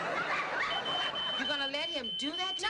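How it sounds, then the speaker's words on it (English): A smoke alarm's thin, steady high beep sounds in a sitcom kitchen scene, held continuously under a voice and a dog's yelping, whining barks. "You guys, that's a smoke alarm!"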